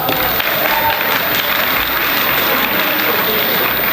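An audience at a cultural dance performance night claps steadily, a broad wash of applause sustained evenly throughout.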